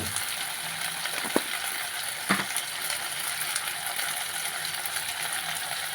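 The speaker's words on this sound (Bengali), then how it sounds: "ভালো করে ভেজে নেব" Fish frying in oil in a pan makes a continuous hissing sizzle, close and even, broken by a couple of soft knocks from a utensil.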